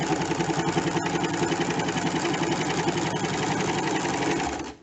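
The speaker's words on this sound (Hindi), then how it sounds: "इस तरह से अमेरिकन प्लैकेट की सिलाई करेंगे।" Sewing machine running steadily while stitching an American-style placket on a ready-made shirt, a continuous close mechanical whir with rapid needle rhythm that holds for nearly five seconds before stopping.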